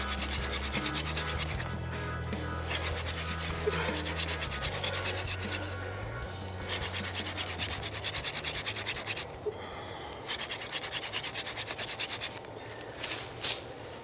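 A wooden hand drill spindle twirled between the palms against a fireboard for friction fire, a steady dry rubbing and scraping that runs nearly continuously and fairly close, with brief breaks as the hands reset.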